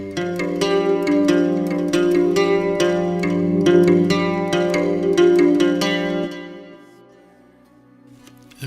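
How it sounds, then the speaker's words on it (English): Plucked electric guitar phrase with a swirling flanger effect and roomy reverb, notes ringing steadily for about six seconds before trailing off into a fading tail. "you just add a little bit of flanger to it, a little bit of reverb to it"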